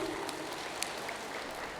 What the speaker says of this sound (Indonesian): Sekali lagi kami minta tepuk tangannya untuk paslon kita Bapak Ibu